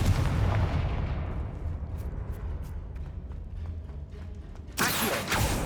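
Confringo spell blasts in Hogwarts Legacy, a heavy rumbling explosion that slowly decays into a crackling tail, then a second sharp burst near the end.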